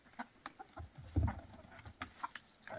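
Soft, scattered clucks from a few newly arrived hens, irregular and fairly close, with one fuller squawk in the middle and quiet surroundings.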